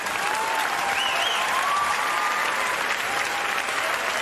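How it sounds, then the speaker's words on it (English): Sustained applause from a stand-up comedy audience, steady and dense across the whole stretch with some cheering and whistles riding on top. "Applause break number 2."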